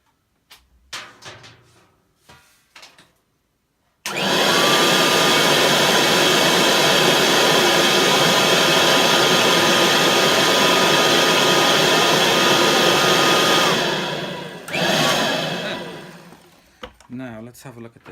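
A Kirby Heritage Legend 2 vacuum cleaner switches on after a few quiet clicks and handling sounds, roaring loud and steady for about ten seconds, then winds down with more handling noise.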